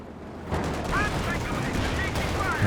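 Panzer IV tank shots ricochet off a Sherman's frontal armor with a dozer blade in the Company of Heroes 2 video game: steady rattling gunfire and sharp metallic impacts amid continuous battle noise.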